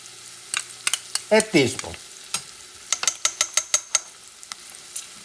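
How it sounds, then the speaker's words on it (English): A spoon stirs tomato paste into a sizzling pot for Dominican habichuelas romanas, scraping and clinking in quick, uneven strokes up close, with a short spoken phrase partway through. "I'm going to stir a small spoon of tomato paste."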